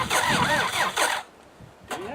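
Struggling car engine cranked on the starter button while ether is sprayed in for a cold start; a loud rhythmic cranking churn lasts about a second, drops to near silence, then a brief renewed crank begins.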